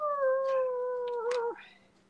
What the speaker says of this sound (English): Their dogs are starting to howl.